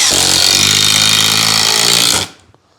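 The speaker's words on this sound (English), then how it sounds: "Let's screw a thing into a thing." A Milwaukee M12 FUEL driver sinks a 3.5-inch screw: a loud, close, sustained high-pitched motor whine with impact rattle for about two seconds, then it stops abruptly and trails into silence.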